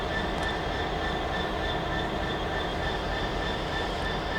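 A train rumbles steadily past on the tracks at Doncaster station, a continuous loud roar with faint high tonal whine over it.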